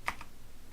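Keystrokes on a computer keyboard during coding work in Unity, two or three quick soft clicks near the start, then quiet room tone.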